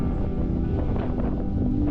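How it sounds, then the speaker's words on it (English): Strong wind buffets the microphone on a cold Cornish coastal headland, a steady low roar with gusty rumble throughout, loud and close, with no voices. "It's very windy and cold"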